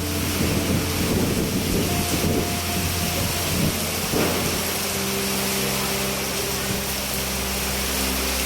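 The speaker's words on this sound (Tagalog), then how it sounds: "Lalong mas malakas. Ang hangin." Strong wind and rain from typhoon Aghon in Baguio, a constant loud roar with gusty rushing and low rumble that stays heavy throughout.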